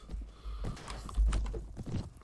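Galloping horse hooves in the video game Mount and Blade: Warband, a quick run of soft thudding clip-clops at moderate distance during a mounted fight.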